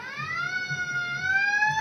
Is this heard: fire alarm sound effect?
yes